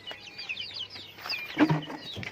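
Native chickens cluck and chirp in a backyard flock, with several short overlapping calls and a louder squawk near the end, fairly close and alone.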